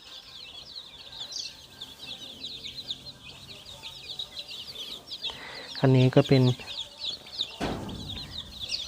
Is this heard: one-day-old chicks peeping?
yes